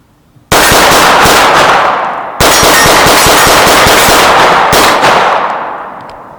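A Staccato C2 double-stack 9mm pistol fires Tula ammunition in three rapid strings of sharp, loud, close shots, each burst ringing out and decaying before the next.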